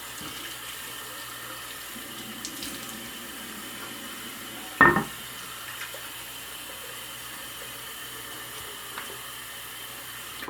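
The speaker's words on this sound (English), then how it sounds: "Go and wet my face." Water runs steadily from a tap into a sink while a face is wetted, a soft continuous hiss with one brief splashy burst partway through and no talking.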